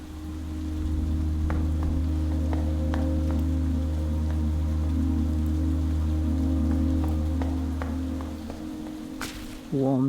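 Rain falls steadily in the video game Zero Parades, a constant hiss of droplets over a low droning background, with a few faint ticks scattered through and no voices.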